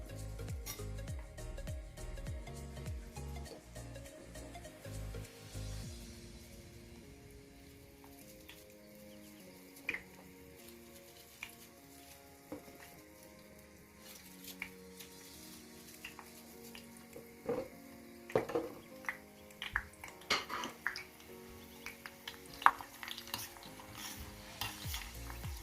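Basil leaves cooking gently in a thin layer of oil over low heat for a homemade flavored oil, a soft steady sizzle broken by a utensil stirring and occasional sharp taps and clinks against the pan.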